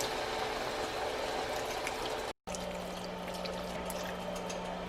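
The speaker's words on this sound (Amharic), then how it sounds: "ትንሽ ውሃ እየጨመርን" Water is poured into a simmering Ethiopian meat stew, tibs wet, on the stove: a steady, quiet rush of liquid with bubbling sizzle, broken by a brief cut near the middle, then continuing with a low hum.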